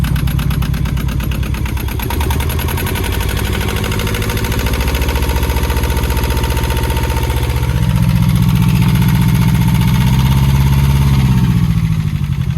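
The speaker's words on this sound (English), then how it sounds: "Motor's running well. I can just reach in here and give it a little tweak, a little rev." A Yanmar 2QM20 marine diesel engine runs steadily close by with a loud, throbbing chug, then is briefly revved up before settling back toward idle; no one speaks.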